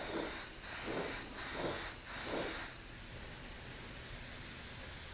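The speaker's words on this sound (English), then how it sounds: "So I'm going to spray just some air on there" A spray gun blows air over fresh opaque white paint: several short pulsing bursts of hiss, then a steady continuous close hiss.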